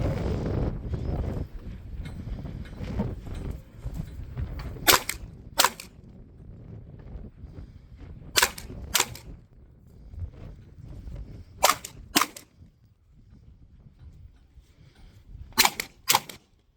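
Pistol shots ring out at an outdoor range toward a target 40 yards away: eight sharp, cracking reports in quick pairs spaced a few seconds apart, over light wind noise.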